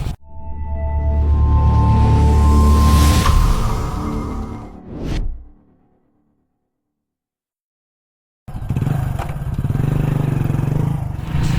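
A Hero Splendor Plus 100cc motorcycle on the move gives a loud, steady engine drone with wind rush, then a sweeping whoosh. The sound drops out to silence for a few seconds before the riding noise returns.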